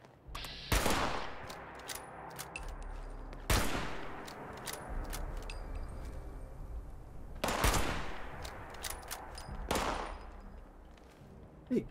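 Gunfire in the game Fallout 76, four sharp loud bursts spaced a few seconds apart, each trailing into a decaying echo over a low rumbling background.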